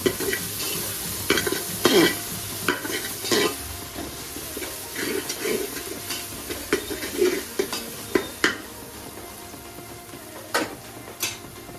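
Ginger garlic paste frying and being stirred in a pan for mutton paya, a steady sizzle broken by scraping stir strokes, close up with no voices.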